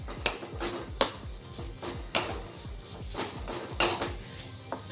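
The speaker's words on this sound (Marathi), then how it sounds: "मी गूळ टाकत आहे" Jaggery tipped into a bowl of grated coconut for modak filling, with a few sharp clinks of utensil against the bowl and soft rustling between them, close and clear with no talk.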